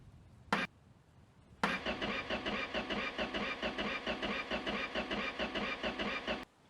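A Ford F250 ramp truck that is out of fuel cranks its engine after a short starter blip, then churns rhythmically for about five seconds without catching before stopping abruptly.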